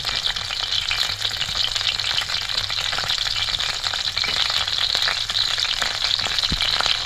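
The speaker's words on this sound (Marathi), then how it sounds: "अशीच मी मिरची सगळ्या बाजून भाजून घेते फ्राय करून घेते" Stuffed bell peppers frying in oil in a pan, Konkani-style, with a steady loud sizzle throughout and occasional faint clinks of a utensil.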